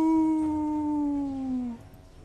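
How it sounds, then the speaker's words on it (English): A feral cat howls in Battlegrounds, a single long, loud, tonal wail that slowly drops in pitch for nearly two seconds before cutting off, close and alone over faint background noise. "I don't know if feral cats howl. This one does, though."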